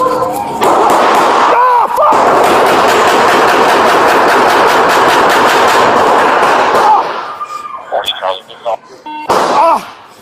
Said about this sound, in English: Gunfight. Officer above shooting.